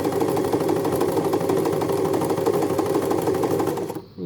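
An Empisal Dressmaker 270D sewing machine stitches a buttonhole with a steady, close mechanical whir and rapid needle chatter, running for about four seconds before abruptly stopping.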